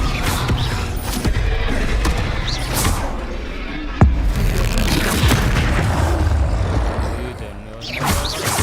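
Spell explosions in the video game Hogwarts Legacy boom and crackle in quick succession over a dense, noisy combat backdrop, with one sharp blast standing out midway.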